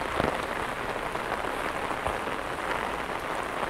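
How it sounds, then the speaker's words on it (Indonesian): Heavy rain falls steadily, a dense, loud hiss of drops pattering on surfaces all around, close by and unbroken throughout. "Wah, ini hujannya deras banget."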